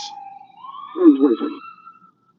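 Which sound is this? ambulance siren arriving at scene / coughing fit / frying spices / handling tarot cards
ambulance siren arriving at scene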